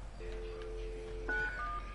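A phone dials 911 in Watch Dogs 2, with a few clear DTMF key tones sounding singly over a low ambient hum.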